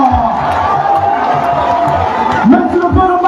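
A large crowd cheers and shouts for the lycée Alexandre Somar at a presidential gathering in Makokou, a loud, continuous roar with some music-like tones running under it.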